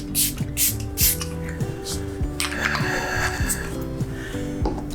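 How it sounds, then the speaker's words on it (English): Several quick hissing bursts of a makeup setting spray bottle up front, over a background of steady music. "I'm gonna go ahead and spray that"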